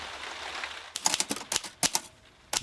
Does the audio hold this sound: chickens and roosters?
no